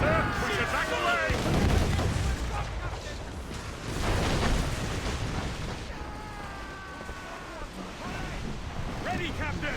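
Heavy cannon fire from sailing warships in the video game Assassin's Creed Rogue, with deep booming blasts and rumbling roar beneath shouted voices and whistling tones.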